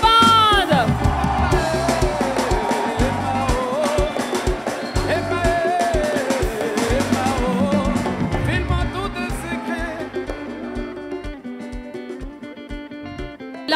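Loud crowd at the Nostalgie Fun Outdoor concert cheering, whooping and applauding for the band, a dense roar with music still ringing underneath that keeps going steadily for the whole stretch.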